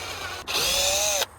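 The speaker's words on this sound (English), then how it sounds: "you want to grab your drill, you want to dig through the plastic into the hole, do that each side" A power drill bores through plastic sheeting into an attic roof beam, a short burst of high whining motor noise lasting under a second after a brief pause, close and loud with no talk.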